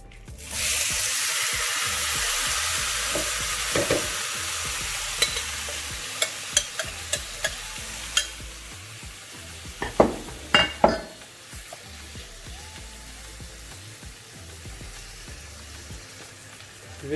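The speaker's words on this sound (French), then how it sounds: "Je vais cuire mes morceaux de cabillaud." Cod pieces frying in olive oil in a pan, heard close as a loud steady sizzle that rises sharply at the start, with scattered clicks and taps of a utensil against the pan and no talking.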